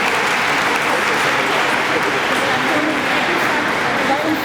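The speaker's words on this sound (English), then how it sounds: "if we could give a round of applause to all of the volunteers who've been so gracious" Sustained audience applause for volunteers at an Asian Heritage Day celebration, a dense, steady wash of many hands clapping throughout without letting up.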